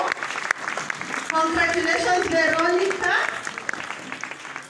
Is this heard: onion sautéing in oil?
no